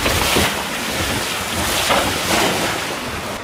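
Sailing yacht under way on open sea near the Barrier Reef, with a steady rush of wind and water sloshing against the hull, rising in a few soft surges throughout; no voices.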